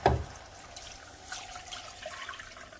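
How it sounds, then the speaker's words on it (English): Broth poured into a pan for a rotisserie chicken dinner, starting with a splashy impact and settling into a soft, steady trickle and slosh, fairly close and alone. "Now I'm going to add my 2 cups of broth, and you're going to be sure to mix and combine as you pour it in."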